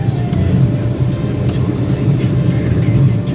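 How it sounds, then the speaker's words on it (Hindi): Metro train rumbling past overhead on an elevated track where a bridge is under construction, heard as a steady, loud low roar throughout, with no speech. "ये भाई ऊपर मेट्रो आ रही है"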